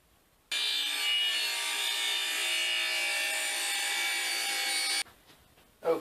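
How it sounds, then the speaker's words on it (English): A table-saw blade cuts along a wooden sword blank in one continuous, loud, bright rasp lasting about four and a half seconds, starting and stopping abruptly, with no talking. "so I've lowered the blade and reset my fence. We'll trim that off."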